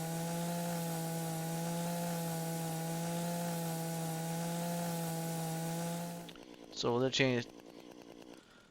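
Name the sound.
chainsaw cutting a tree in video game DayZ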